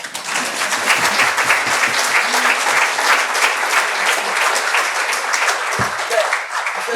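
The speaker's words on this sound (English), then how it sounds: "First, let's clap." An audience at a book launch at UCL breaks into dense, sustained applause, many hands clapping steadily and loudly for the whole stretch with no pause.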